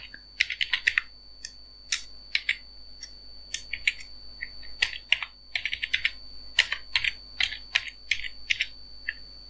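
Rapid clicking of a computer keyboard as a hello world program is typed into the PyCharm editor, close and steady with uneven bursts of keystrokes, alone and without talk.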